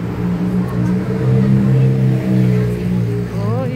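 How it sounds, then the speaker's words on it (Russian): Car traffic streams around Prato della Valle square in Padua, a continuous low engine hum with overlapping passing vehicles, steady and moderately loud throughout. "О, сколько машин, сколько гроха."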